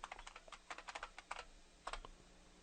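Password being typed on a computer keyboard while logging into Kali Linux, a quick irregular run of crisp, close key clicks with a short pause before a final burst of keystrokes.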